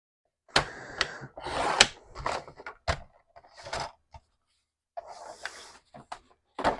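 Paper for a 6x8 mini album being cut in short bursts of slicing and trimmer clunks, each separated by brief pauses, close and fairly loud, with no talking.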